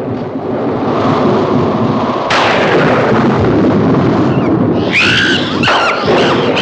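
A violent thunderstorm in a 1962 film rumbles and cracks loudly and continuously, with a heavy booming roll, a sharp crash partway through and high squealing wind near the end.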